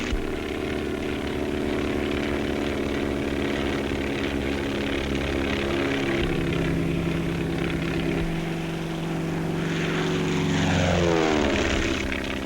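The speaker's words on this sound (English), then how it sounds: "The planes must be light and fast so they can be easily maneuvered." A 1935 propeller airplane used for sky billboards drones steadily close by, its engine pitch shifting and rising toward the end as it passes, with no talking.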